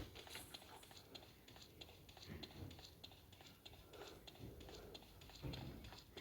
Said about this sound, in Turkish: Şu ayak sesi ne kadar da rahatlatıcı.